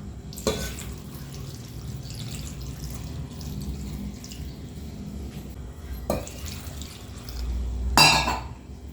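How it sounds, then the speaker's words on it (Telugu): Water is poured into a cooking pot holding tamarind, chilli powder, turmeric and salt for a gangavalli leaf dal. A low steady trickle runs under three short, louder splash and clatter bursts. "ఇప్పుడు వాటర్ వేసేసుకుందాం"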